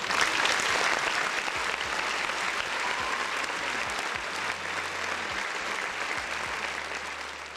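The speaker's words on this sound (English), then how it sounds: "a round of applause for the folks in the chat" Sustained applause from a crowd, dense clapping that stays loud throughout and tapers slightly toward the end.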